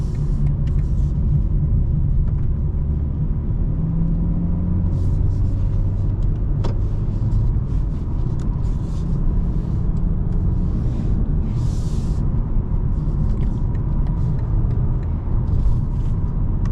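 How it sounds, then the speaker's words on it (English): A 2025 BMW M4 Competition xDrive with lowered suspension cruises at highway speed, a steady loud cabin rumble of engine and road noise with brief hissing swishes from passing traffic throughout. "we are hopping back on the highway, getting back to Atlanta. Let's see how this car feels with the suspension on at highway speeds"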